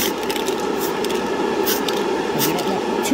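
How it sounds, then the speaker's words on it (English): Silver spray paint is lightly dusted from an aerosol can onto a black Revell Corvette C7.R model car body, giving a steady soft hiss throughout with faint short bursts of spray. "You don't want to just spray right on."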